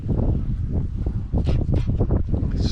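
Wind blowing over water during winter kayak fishing, gusting in uneven bursts with rustling and buffeting against the microphone, close and steady with no talking.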